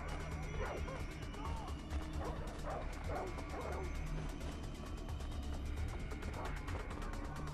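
Dogs in the video game Far Cry 4 barking and yipping in quick repeated bursts over constant game background noise, with a few whimpers mixed in.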